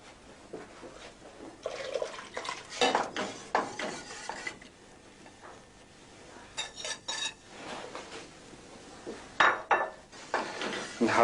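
Mushrooms stirred into a mixture in a pan, with intermittent scraping and clinking of a utensil against cookware in uneven bursts, fairly close, with quiet pauses between.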